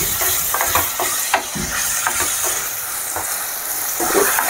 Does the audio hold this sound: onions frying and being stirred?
yes